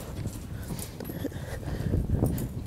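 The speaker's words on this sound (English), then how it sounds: "I can get this horse moving forward for him, and so Austin doesn't have to work as hard." A young colt being started under a rider walks forward, its hooves clip-clopping in a steady, fairly close rhythm over soft ground, with no talk.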